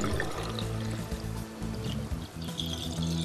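Rainwater pours and trickles through a roof drain pipe fitted with a filter, a steady close gurgling flow with shifting splashes and low hollow resonance.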